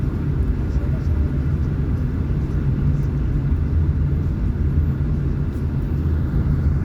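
Steady road traffic rumble in Banilad, a continuous low engine drone from cars and vehicles passing nearby, loud and unbroken throughout.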